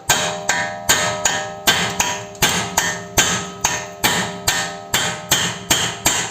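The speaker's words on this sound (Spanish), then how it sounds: "Vamos a probar con el botador a ver qué tal nos va, si se mueve algo." A hammer strikes a drift punch against a suspension part on a SEAT Ibiza 6L, about thirteen sharp metallic blows at a steady rhythm, close and loud with ringing decays.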